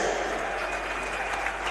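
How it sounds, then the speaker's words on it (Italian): Spectators at a roller hockey Supercoppa match applaud the Breganze team, a short, steady burst of crowd clapping filling the hall. "un applauso alla formazione del Breganze che ha onorato al meglio questa"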